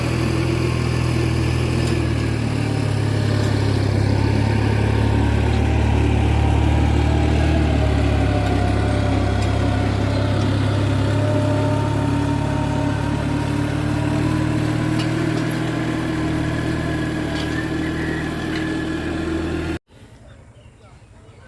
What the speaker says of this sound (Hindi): घर के बैक साइड पे ट्रैक्टर जो है वो हल चला रहे हैं